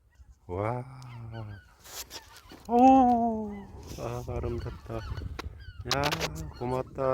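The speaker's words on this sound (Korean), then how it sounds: "아무튼 새소리가 들리네" Loud honking goose-like bird calls repeat at close range, with some talking mixed in between the calls.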